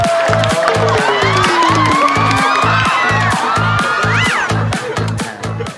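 Studio audience cheers and whoops ring out on a Thai comedy variety show as a guest is welcomed, riding over a loud, thumping pulsed music beat that holds steady before easing at the end.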